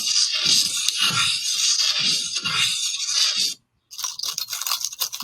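Bright metallic jingling and rattling, like keys being shaken, runs continuously with a rhythmic pulse, breaks off briefly, then resumes.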